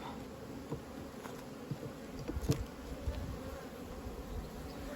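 Honey bees buzz steadily at a beehive, a dense droning swarm close by with scattered louder passes of individual bees drifting near.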